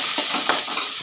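Cubed brinjal sautéing in a pan as it is stirred, a steady close sizzle with soft scraping strokes over it.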